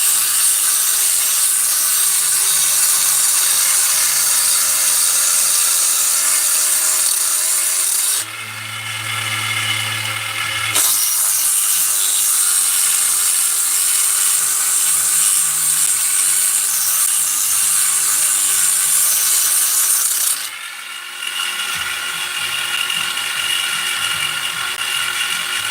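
A high-pitched rotary tool grinds steadily on the cylinder of a Husqvarna 262XP chainsaw engine, porting it with 220-grit abrasive; the close, continuous whine dips briefly twice, with no talking.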